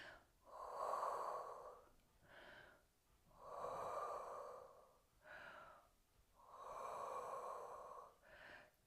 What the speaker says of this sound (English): And just take some deep breaths there.